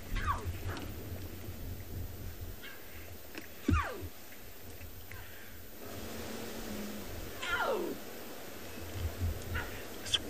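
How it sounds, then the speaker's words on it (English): Wild cat cubs meow and call for their mother, several rising-and-falling cries spaced across a quiet outdoor scene, some near and clear, others fainter. "I hope you can just hear those cubs calling Mama."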